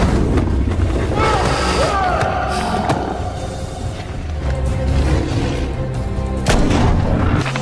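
Gunfire blasts at a large creature in a film, heavy booming shots and thuds layered over a dense, chaotic action soundtrack with a narrator's voice running over the top.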